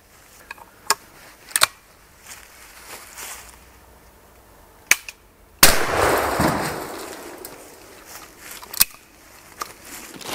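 A 12-gauge Baikal smooth-bore trap shotgun loaded with steel shot fires a single loud, close blast midway, fired at a Peugeot Partner van. A long noisy decay follows, with a few sharp clicks and knocks before and after.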